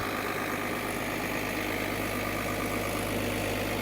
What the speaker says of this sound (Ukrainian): Запустили насосну станцію.